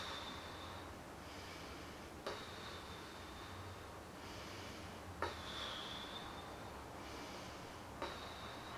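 Slow, soft breaths blown out through relaxed lips during a facial rehabilitation exercise, repeated several times at a steady pace with faint puffs and brief clicks between them, close and quiet.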